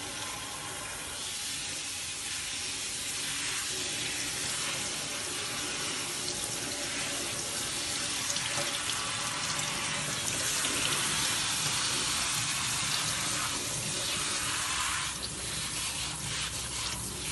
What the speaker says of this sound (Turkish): İyicene yıkıyoruz soğuk suyla.